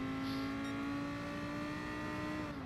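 A race car in a racing video game drones steadily along a straight on the Dragon Trail Gardens circuit, its engine tone holding high and close, easing slightly at the very end.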